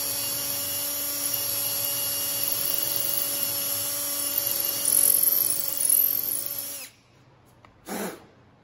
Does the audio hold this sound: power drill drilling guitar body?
yes